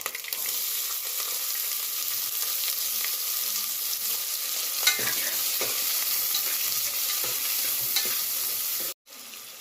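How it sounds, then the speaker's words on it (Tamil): Onions, curry leaves, dried and green chillies fry steadily in a pan for a white pumpkin kootu, a constant close sizzle with occasional stirring clicks before it cuts off near the end. "இது கொஞ்ச நேரம் நல்லா ஃப்ரை ஆகணும்."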